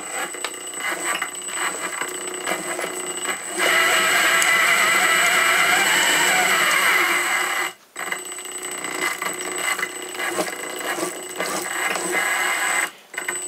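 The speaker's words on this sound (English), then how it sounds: "can turn the machine by hand" Hand-cranked lure making machine turning slowly, giving a steady mechanical whirring and clicking that runs continuously, briefly stops twice, and resumes; no speech.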